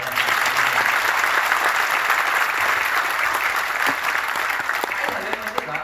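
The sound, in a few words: audience applause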